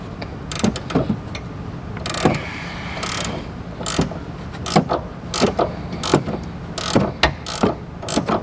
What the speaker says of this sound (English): And then I have this ratcheting 15mm in here.